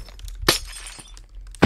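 Glass block placed in the Minecraft video game: two sharp, bright glassy clinks a second apart, close and loud, with no talking.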